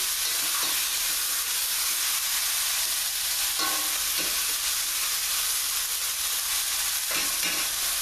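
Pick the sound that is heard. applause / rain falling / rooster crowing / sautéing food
sautéing food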